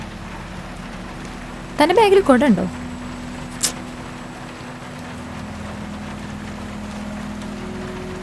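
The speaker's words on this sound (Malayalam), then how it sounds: "ഇനിയിപ്പോൾ മഴ മാറിയിട്ടല്ലേ പോകാൻ പറ്റുള്ളൂ." Steady rain hisses evenly in the background while a person asks a short question in the foreground, followed by a brief sharp knock.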